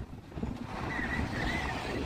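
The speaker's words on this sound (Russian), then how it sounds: "Очень сильный ветер что-то поднялся." Strong outdoor wind roars and buffets steadily against the microphone, building after a brief lull and then holding as a dense, loud rush.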